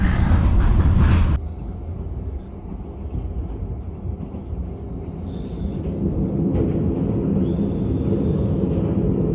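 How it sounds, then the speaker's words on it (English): An old, rickety overnight train in Vietnam rumbles and rattles continuously with low, rough clatter and a steady roar, louder at the start then settling into a constant rolling rumble. "it's very rickety not sure how anybody sleeps on this train"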